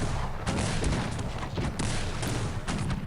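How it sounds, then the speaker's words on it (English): Multi-barrel cannons firing in the strategy game Cossacks 3, a rapid barrage of overlapping booms and cracks in dense, loud bursts. "He needs to protect his new multi-barrel cannons."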